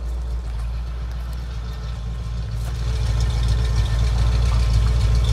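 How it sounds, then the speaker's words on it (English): A flathead V8 engine idles steadily with cheap, restrictive mufflers, its exhaust dumping just past the rear end, producing a loud, continuous low rumble that swells slightly in the second half. "People want to hear the flathead run"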